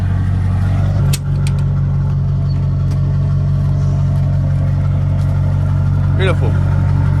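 A Jeep TJ engine idles and rumbles steadily at close range as it creeps onto a trailer, with a continuous low drone while people talk and give directions over it.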